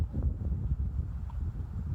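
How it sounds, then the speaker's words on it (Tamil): Strong wind blows outdoors in Saudi Arabia while someone walks, making a continuous low rumbling buffet against the microphone that stays steady throughout, with no speech. "இன்னும் செம்மையாக காற்றடிக்குது."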